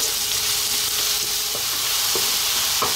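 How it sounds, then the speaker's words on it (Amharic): Garlic and ginger fry with onions in a pan, with a steady broadband sizzle and a few soft stirring clicks close by, and no voices. "ነጭ ሽንኩርትና ጅንጅብላችንን እንጠብሳለን።"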